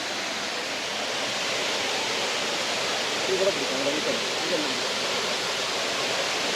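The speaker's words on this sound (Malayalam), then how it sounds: "നമ്മൾ ഈ വെള്ളച്ചാട്ടം കണ്ടാലും എത്ര കണ്ടാലും നമുക്കൊരു മതി വരുന്നില്ല" Palur Kotta waterfall in Malappuram, Kerala, gives a steady, broad rushing roar that fills the whole span evenly, with faint murmurs of people under the constant water noise.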